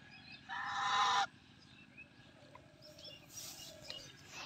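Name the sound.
goose honking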